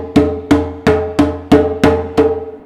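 Djembe struck with eight even eighth-note strokes alternating right and left hands, each a sharp ringing hit with quick decay, close and alone at a steady moderate tempo.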